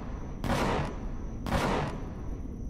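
Gunfire in the space survival game Empyrion Galactic Survival: two loud, broad blasts about a second apart, each with a short noisy tail, over a steady background hum.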